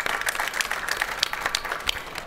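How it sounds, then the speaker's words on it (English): A trade-fair forum audience at drinktec gives brief applause, a fairly quiet, scattered patter of clapping hands heard at a distance. "Definitely deserve a round of applause"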